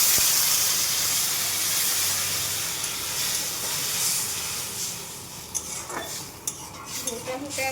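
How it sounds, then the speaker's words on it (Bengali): Water hits hot fried spice paste in a pan for a fish curry, a loud burst of hissing sizzle that slowly settles, followed by a few light clinks of utensils against the pot. "এবার জল দিয়ে দেব।"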